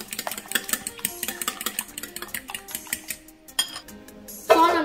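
A utensil beats omelette eggs with salt and black pepper in a bowl, a quick run of bright clinking taps against the bowl sides in an uneven rhythm, close and clear with no voices.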